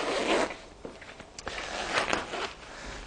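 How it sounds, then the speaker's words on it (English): A fabric skirt is zipped onto the hood of a Graco Quattro Tour Deluxe pushchair, giving several short, close rasping zipper pulls with small pauses and clicks between them. "You'll find a small zip along the front which you simply attach on."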